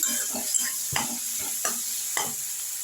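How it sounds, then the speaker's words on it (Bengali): Homemade ground spice mix of cinnamon, clove and cardamom frying in oil: a continuous sizzle broken by about five rhythmic scraping stirs, close and clear, with no voice. "মশলাটা একটু ভেজে নিচ্ছি"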